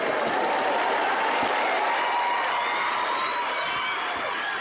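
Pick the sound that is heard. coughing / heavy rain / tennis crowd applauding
tennis crowd applauding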